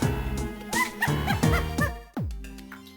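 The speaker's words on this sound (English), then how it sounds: "Not to mention, the dog's barking." Game dog from Shantae barking in short stylized yaps, a handful of bright, close bursts over chiptune-style music, with a sharper sound cutting in near the end.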